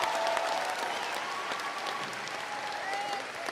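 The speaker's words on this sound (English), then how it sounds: "Okay, you can clap for that." Audience applause fills a high school graduation commencement as diplomas are about to be awarded, a steady dense wash of many hands clapping in a large venue, fairly distant and sustained throughout.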